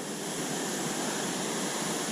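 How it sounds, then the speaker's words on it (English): A raging mountain creek and waterfall in the Desolation Wilderness near Eagle Lake pour in a loud, steady broadband roar, close and unbroken, with no voices. "Wow, the creek's raging. Look at the falls."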